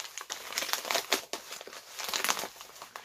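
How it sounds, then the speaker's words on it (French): Crinkling plastic and paper as a parcel holding a PS2 game is unwrapped, close irregular rustling and crackling bursts continuing throughout, with no talk. "Donc on va déballer ça les amis."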